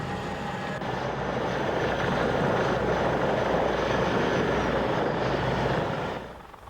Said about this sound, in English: the Army's AH-64 Apache is still the most lethal and survivable attack helicopter in the world